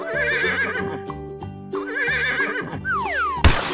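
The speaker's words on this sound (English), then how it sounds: "Horse." A horse in a 3D animal slide video game lets out a loud, wavering whinny, repeated twice over busy game music, ending in a sliding whistle effect and a burst of noise.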